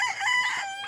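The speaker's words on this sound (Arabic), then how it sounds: "دجاج قطني او سلكي مش عارف ايش بتسموه عندكم" A rooster crows among silkie chickens at a farm, giving one short, close crow with strained harmonic tones and no voices.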